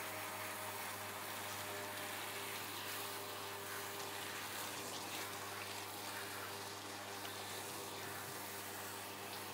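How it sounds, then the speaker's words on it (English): Steady broadband water spray from a hose or tap rinsing shampoo off a dog's head during a bath, with a low pump-like hum underneath, continuous and fairly loud throughout, with no talking. "Rinse the head first, so any shampoo that it accidentally went into the eyes is thoroughly washed away."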